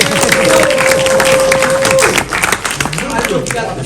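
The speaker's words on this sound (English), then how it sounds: "let's give her a great round of applause" An audience in the Orinda Theater breaks into dense, loud applause with cheering, and a voice carries on speaking over the clapping as it fades.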